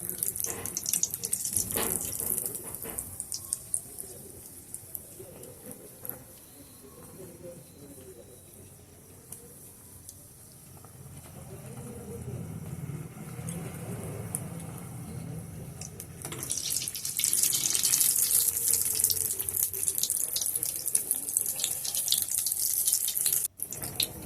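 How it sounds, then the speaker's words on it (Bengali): Pea kachori fry in hot oil, a soft hiss and sizzle that rises and falls, growing brighter and louder toward the end, heard close without speech. "এইভাবে সমস্ত কচুরিগুলোকে ভেজে নেব।"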